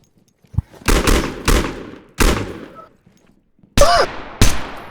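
Rifle fire in Zero Hour, a tactical shooter game, comes as several sharp, loud bursts of short shots separated by silent gaps, each ending with a brief ringing metallic tail.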